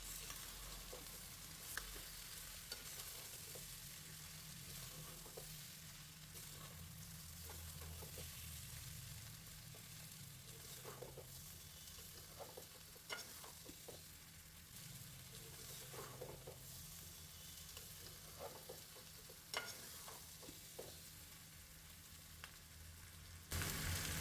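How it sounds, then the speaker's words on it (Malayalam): Chicken roasting uncovered in an open pan gives a continuous soft sizzle and crackle, with occasional sharper pops and light stirring scrapes, close and steady throughout. "ചിക്കൻ വെന്ത് കഴിഞ്ഞാൽ പിന്നെ തുറന്നിട്ട് റോസ്റ്റ് ചെയ്തെടുത്താൽ മതി"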